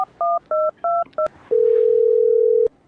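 A telephone beeps out five short dialing tones in quick succession, then holds a long, steady tone before it cuts off.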